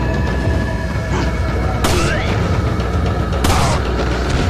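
Gunfire in Resident Evil 4: two sharp, loud shots about a second and a half apart over constant game background noise, with a player talking.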